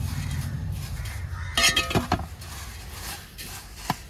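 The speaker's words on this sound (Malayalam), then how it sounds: "നമുക്ക് ആ പാത്രത്തിലോട്ട് ഇട്ട് കൊടുക്കാം ചൂടാക്കാനായിട്ട് നല്ലപോലെ ഒന്ന് ഇളക്കി കൊടുക്കാം" Flattened rice (aval) being stirred in a pan over heat, with a low scraping hiss and a cluster of light metallic clinks and taps of the utensil against the pan, fairly quiet and close.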